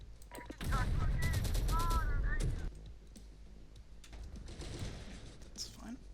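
Video game gunfire during a battle for Santa Fe on realistic difficulty: dense, rapid bursts of automatic shots fill about two seconds, then fade to quieter, distant crackle. A voice speaks over the shooting.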